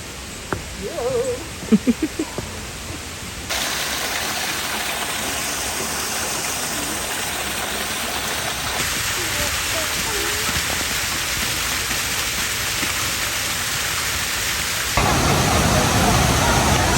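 Tala River in Bailen, Cavite, producing a steady broadband rush of flowing water that grows louder and fuller partway through, with a few brief knocks and footsteps near the start before the continuous roar.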